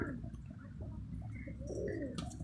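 Pigeons coo softly and repeatedly against a bed of low outdoor noise, with a few faint chirps higher up.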